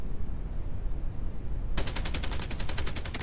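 Rapid LMG machine gun fire in Call of Duty Mobile battle royale, a steady run of evenly spaced shots bursting in loudly partway through after a stretch of ambient game noise.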